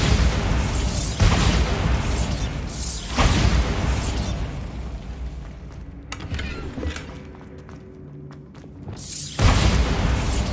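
Bombarda blasting spell detonating in Hogwarts Legacy, several loud booming bursts that recur every couple of seconds, with a quieter stretch of rumbling ambience before a final heavy blast.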